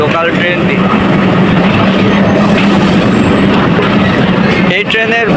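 A late six-coach local passenger train with a diesel locomotive rolls into a railway station, giving a loud, steady rumble of wheels and carriages with some squealing, and noise continuing throughout.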